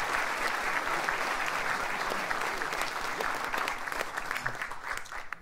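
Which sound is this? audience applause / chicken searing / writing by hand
audience applause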